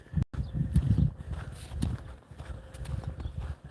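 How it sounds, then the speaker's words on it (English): Hooves of donkeys clip-clopping over ground on a farm as they are let out, a steady uneven walking rhythm close by with scuffing steps, no talk. "gotta let the donkeys out"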